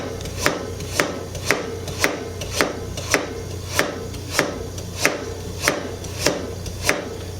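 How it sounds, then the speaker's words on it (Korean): A knife slices carrots thinly on a cutting board, about thirteen crisp, evenly spaced chops in a steady rhythm, close and clear. "이렇게 얇게 썰어서 준비를 해 놓으시고, 그 다음에 당근도 마찬가지로"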